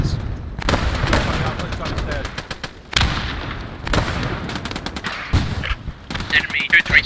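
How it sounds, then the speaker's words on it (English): An enemy machine gun fires in the video game Post Scriptum, loud rapid bursts with some sharp single shots in the mix, recurring over several seconds under voices talking on comms. "There's an enemy machine gun on the stairs on the"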